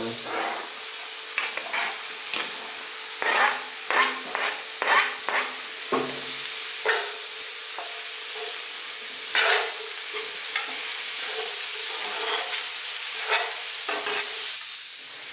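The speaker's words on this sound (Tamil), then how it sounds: "இப்போ நெக்ஸ்ட்டு காளான் போடுங்க." Mushrooms fry in a pan for a mushroom curry, a continuous sizzle and hiss with repeated scraping stirring strokes, close and fairly loud, and the hissing steam grows stronger toward the end, with no talking.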